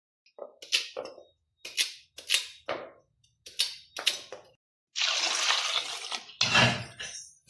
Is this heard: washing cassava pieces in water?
yes